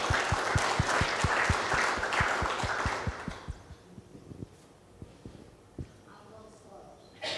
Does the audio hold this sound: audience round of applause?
yes